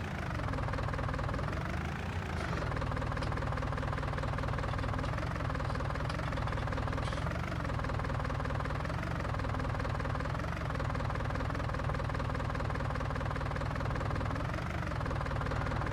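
A tractor engine in Farming Simulator 19 drones on continuously, a steady rumbling mechanical hum with slight periodic surges, loud and unbroken with no voices.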